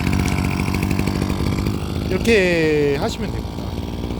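A two-stroke engine brush cutter runs close by with a steady, buzzing idle throughout, while a person speaks briefly over the engine.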